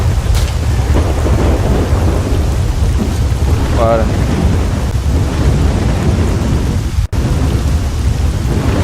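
Thunderstorm with heavy rain in the S.T.A.L.K.E.R. video game, a loud steady roar of downpour and rumbling thunder filling the scene, with someone speaking briefly over it.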